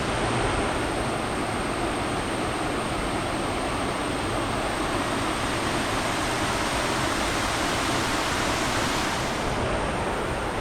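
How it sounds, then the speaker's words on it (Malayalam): The Anchu Kuzhi waterfall in a forest roars in a constant, loud, unbroken rush of falling water, close by and filling the whole scene without any voices. "5 കിണർ ഉള്ളത് കൊണ്ടാണ് 5 കുഴി വെള്ളച്ചാട്ടം എന്ന് ഈ വെള്ളച്ചാട്ടത്തിനെ പറയുന്നത്"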